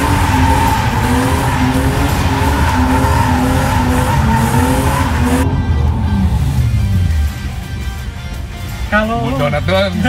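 A BMW E36 drifting at Edutown, tires squealing and skidding under a loud, revving engine for several seconds before the noise drops away and a voice is heard near the end.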